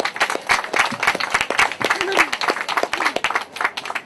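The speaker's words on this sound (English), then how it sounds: "Let's have a big round of applause for Bobby and Dean's family." Audience applause after a family is introduced at a visit to Strokestown, steady dense clapping throughout with some voices mixed in.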